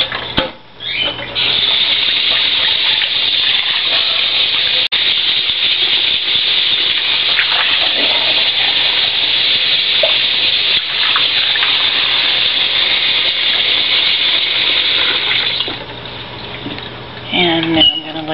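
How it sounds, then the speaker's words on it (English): Tap water runs steadily and loudly over soaked canary seed in a sink while the seed is drained and rinsed. The strong, continuous gush lasts almost the whole time and eases off near the end. "The seed has been soaking, or it needs to soak for about 4 hours. I'm going to drain it and rinse it."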